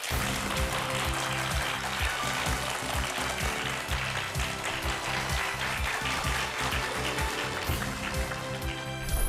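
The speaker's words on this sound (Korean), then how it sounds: "큰 박수로 맞아주시죠" A studio audience claps to welcome a speaker onto a lecture stage, a full, continuous burst of applause holding strong for about nine seconds.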